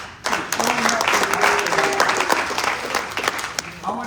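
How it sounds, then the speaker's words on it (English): A room full of people claps steadily for a few seconds, a dense, even patter of applause that trails off at the end. "Give yourself a round of applause for showing up."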